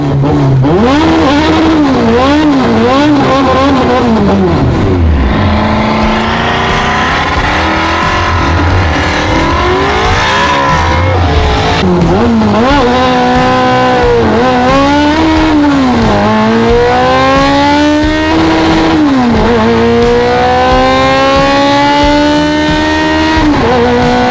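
A 450 whp Honda race car with clutch and transmission trouble, running without nitrous, makes a drag strip pass: loud engine revving climbs through repeated gear changes, each shift dropping the pitch before it rises again.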